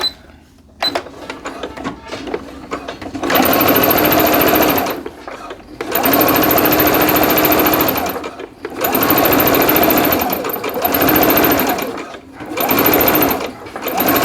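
Sewing machine top stitching a seam on Vogue 8909 joggers, running in several long loud bursts separated by short pauses, with brief quiet gaps between runs.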